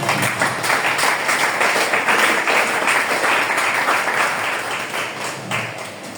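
A church congregation applauding: dense, steady clapping from many hands, loud and sustained, thinning slightly toward the end.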